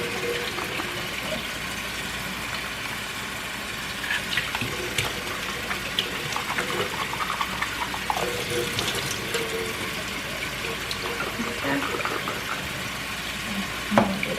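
Rinse water poured off beans being prepared for homemade chili, a steady, close gushing and splashing of liquid that runs continuously with small surges and spatters.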